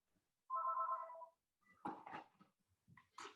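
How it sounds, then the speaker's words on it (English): A telephone rings during a university seminar, one loud electronic trill followed by fainter scattered noises in a quiet room, with no talk. "So just 1 second, that's a phone."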